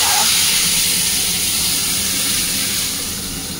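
A pressure cooker holding chana dal and ridge gourd on a home kitchen stove gives off a steady, loud hiss of escaping steam that eases slightly near the end, with faint background sounds.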